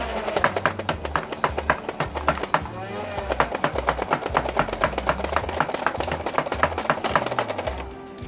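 A modified Nerf Hyperfire blaster fires darts in rapid full-auto bursts, a loud fast train of sharp mechanical clacks over a droning flywheel motor hum, running continuously at close range.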